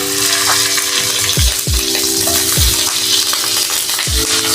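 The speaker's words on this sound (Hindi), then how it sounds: "सबसे पहले इसमें देसी घी ऐड करूँगी।" Desi ghee sizzles loudly in a hot pan on the stove for a shahi gajrela. A steady frying hiss carries a few sharp metallic clinks.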